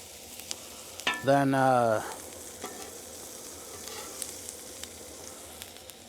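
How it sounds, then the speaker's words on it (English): Asparagus spears cook on a hot backyard griddle with a faint, steady sizzle and scattered small crackles, briefly covered by a short burst of speech early on. "Then we're gonna take our asparagus and start cooking it up"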